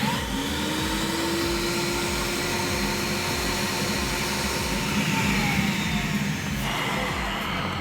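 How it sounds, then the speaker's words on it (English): A Pro-Ject VC-E record cleaning machine runs its vacuum on a record: a steady, loud, whooshing drone with a low motor rumble that holds unchanged throughout. "Pop that down and now hit the vacuum button."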